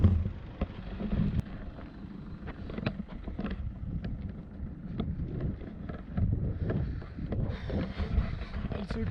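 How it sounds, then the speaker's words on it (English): Strong gusting wind at the Patula top mountain pass, around 13,479 feet, buffeting the microphone with steady low rumble and irregular thumps throughout. "Also, it's damn windy here."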